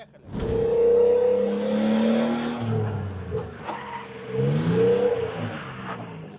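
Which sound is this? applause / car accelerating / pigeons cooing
car accelerating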